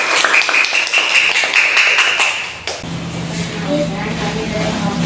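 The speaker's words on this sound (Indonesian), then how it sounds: "Tepuk tangan untuk kelompok 1" Classmates clap for a presenting group in a classroom, a brief burst of brisk applause that stops suddenly, followed by quieter room noise.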